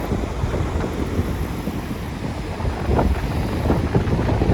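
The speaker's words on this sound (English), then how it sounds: "It's very windy." Strong wind buffets the microphone in a constant loud roar, with gusts swelling and a rushing undertone of roaring water nearby.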